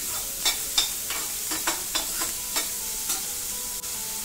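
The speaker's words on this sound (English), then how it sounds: "2 medium onions we have added to the pan and get it sauteed nicely" Chopped onions sautéing in a pan for a Mumbai street-food egg dish, with steady frying sizzle and a string of sharp stirring scrapes and clicks every half second or so, no voices.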